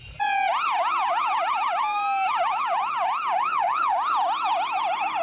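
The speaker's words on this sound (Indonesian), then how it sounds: "Di sini ada mobil ambulan." A wailing ambulance siren starts abruptly and warbles steadily up and down, loud and close, with a thin electronic tone like a toy.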